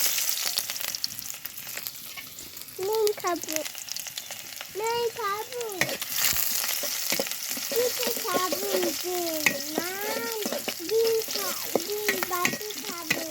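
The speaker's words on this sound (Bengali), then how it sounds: "তেল ভালো করে গরম হয়ে গেছে, এখন দিব পেঁয়াজ কুচি এবং রসুন কুচি" Chopped onion and garlic fry in hot oil, a constant loud sizzle with occasional stirring scrapes, while people talk over the cooking throughout.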